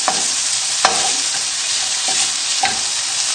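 Bacon sizzles on high heat in a pan, a steady bright crackle running throughout, with a few sharp scrapes and clacks of a utensil stirring it, close and fairly loud.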